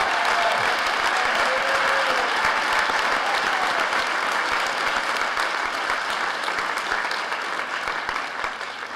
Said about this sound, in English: we want to make sure he has his just applause